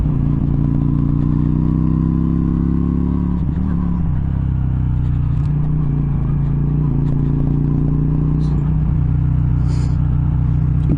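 Carbureted motorcycle cruising along, its engine a steady loud droning rumble heard up close from the rider's position, with slight shifts in pitch as the throttle changes.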